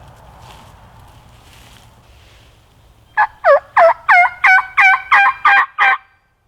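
Wild turkey gobbling from a field on Iowa public land in spring: about nine rapid, loud, clear gobble notes in a burst after a few seconds of quiet outdoor ambience.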